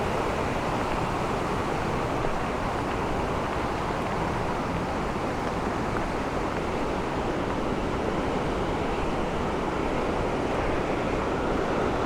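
Pine Creek in Montana's Paradise Valley flows below a trail on a rainy hike, a steady broadband rush of water that stays constant throughout, with some wind buffeting on the microphone.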